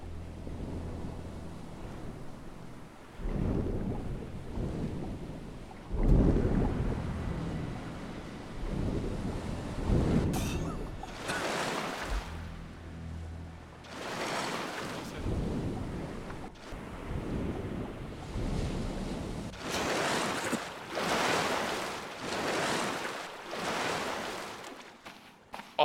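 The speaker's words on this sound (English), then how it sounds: "Oh my god, that water is so loud." Heavy storm surf and wind in the survival game Stranded Deep, a loud, continuous roar of crashing ocean water with surging bursts and gusty wind noise throughout.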